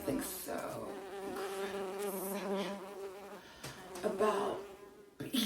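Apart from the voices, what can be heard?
bees buzzing at a beekeeping site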